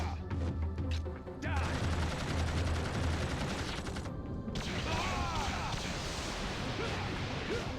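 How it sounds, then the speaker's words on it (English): Fireworks-like spell effect in the video game Blood Will Tell: rapid crackling bursts like gunfire over a low hum, a brief drop to near-silence, then a renewed dense stream of popping and whistling sparks. "Fancy fireworks."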